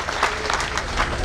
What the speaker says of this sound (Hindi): संघर्षरत रहे, एक ताली लगाएं।